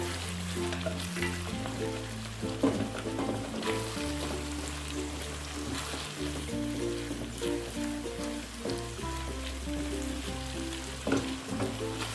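Ground chili paste is stir-fried in a pan for Padang-sauce squid, giving a steady close sizzle with scraping stirs throughout, under continuous background music.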